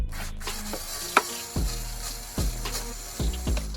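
A ratchet loosens bolts on a 2020 Grom motorcycle fender, heard as several separate clacks spaced about a second apart, close and fairly quiet, with no voices.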